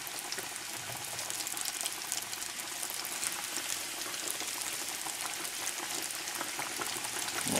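Chicken thighs fry in olive oil in a pot with a steady, dense sizzle and bubbling hiss. It sounds close and continuous, with no talking.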